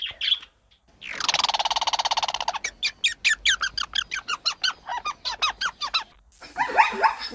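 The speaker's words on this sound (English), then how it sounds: "parrot" Parrot calls: a long harsh squawk followed by a rapid run of sharp, repeated squeaky screeches, then a final rough burst of chatter, loud and close with brief pauses between.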